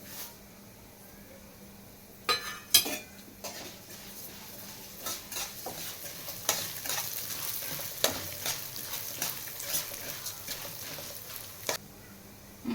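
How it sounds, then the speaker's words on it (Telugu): Coriander seeds, cumin and fenugreek fry in a little oil in a home kitchen pan, giving a low steady sizzle broken by scattered crackles and a few sharp spoon-on-pan clinks, with no talking. "ఇంట్లోనే ధనియాలు, జీలకర్ర, మెంతులు ఇంట్లోనే వేసేద్దాం."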